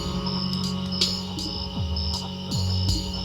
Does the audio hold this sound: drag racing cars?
no